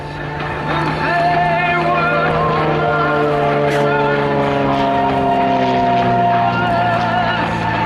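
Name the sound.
aircraft flying at an air display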